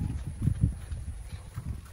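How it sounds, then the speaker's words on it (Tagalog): Horse hooves clip-clop at a campsite in a quick, uneven series of soft, fairly close thuds over low background noise. "may kabayo na naman doon"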